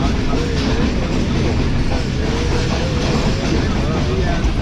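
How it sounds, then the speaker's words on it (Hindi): A Subak Raftar railcar rolls toward Chaklala railway station with a loud, continuous rumble and faint wheel clatter, a voice speaking beneath the steady roar. "ट्रेन हमारी जो चकलाला रेलवे स्टेशन पर अप्रोच बना रही है इस वक्त"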